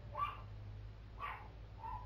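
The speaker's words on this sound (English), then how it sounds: "them dogs did not stop barking" Dogs in a family home bark in short bursts, three of them spaced about a second apart against a quiet room with a low steady hum.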